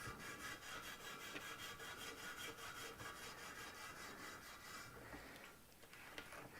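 Steady back-and-forth scrubbing on a Honda CL125S motorcycle part during a restoration, a continuous close rasping rub that keeps going without pause, with no talking over it.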